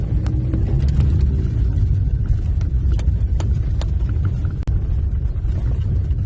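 A car rolls through a Ukrainian village with a steady low rumble and bumpy road noise heard from inside the vehicle, punctuated by occasional clicks and knocks.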